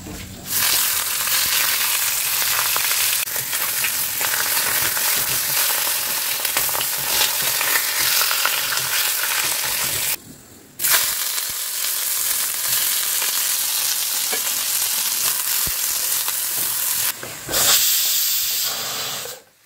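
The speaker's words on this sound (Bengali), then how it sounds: "পেঁয়াজ রসুন আদা বাটা, টমেটো বাটা, সব রকম মশলা সব দিয়ে কষাচ্ছি" Onion, garlic and ginger paste fry with tomato paste and mixed spices in a pan, giving a loud, continuous close-up hiss and sizzle. It cuts off briefly twice, then resumes, with light stirring scrapes and no speech.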